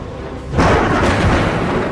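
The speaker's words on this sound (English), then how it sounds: "That's a storm coming." Thunder from an approaching storm rolls in as a deep, loud rumble that swells suddenly and sustains, filling the space with heavy low booming and no voices.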